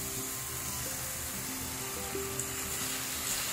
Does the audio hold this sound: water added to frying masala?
yes